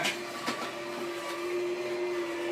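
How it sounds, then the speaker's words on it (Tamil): An electric juicer switched on and grinding a whole apple, a steady close motor whine holding one sustained tone, with a brief knock near the start and no voices. "நம்ம ஜூசரை பொறுத்தவரை இந்த மாதிரி ஒரு முழு ஆப்பிள வந்து நீங்க இதுல போட்டீங்கன்னா அதுவே உங்களுக்கு அரைச்சி கொடுத்துரும் பாருங்க."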